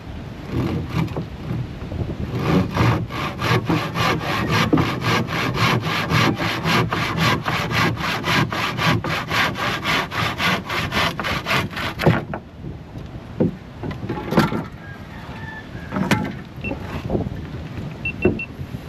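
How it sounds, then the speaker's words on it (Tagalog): A hand saw cuts through wood in quick, even back-and-forth strokes, loud and close for about twelve seconds, then stops, leaving a few scattered knocks and handling sounds. "Lagari tayo."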